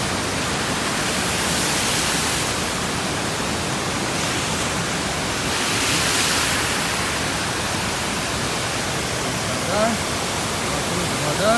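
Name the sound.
waterfall rushing water on a slope in Abkhazia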